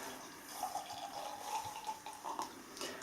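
Beavertown Black Yeti beer pours into a glass with a soft, close glugging and fizzing trickle that swells and eases over a few seconds, quiet and without talk.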